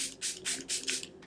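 Several short, breathy hisses of a face-mist spray bottle in quick succession, close and fairly soft, with brief pauses between bursts.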